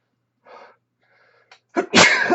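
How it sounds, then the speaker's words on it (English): A single sneeze: a short sharp intake of breath, a brief catch, then a loud explosive burst that trails off, close to the listener. "Excuse me, I have to sneeze."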